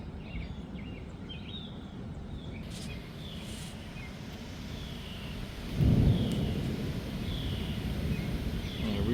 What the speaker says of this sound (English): Good amount of lightning and thunder out there